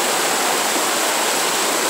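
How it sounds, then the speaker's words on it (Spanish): A powerful waterfall in the Patagonian wilds near Epuyén crashes down in a steady, dense roar, loud and continuous throughout with no voices over it. "La fuerza de la cascada acá es alucinante."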